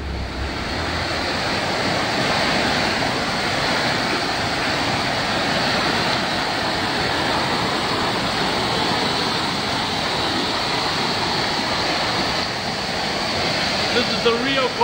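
The Rio Cortesal in Uvita, Costa Rica flows with a continuous broad rushing wash of water, fairly loud and unbroken throughout.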